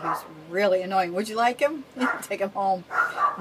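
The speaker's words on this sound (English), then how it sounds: "that is my dog" A pet dog barks in a home while a person keeps talking over it, the barks brief and mixed into the speech at close range.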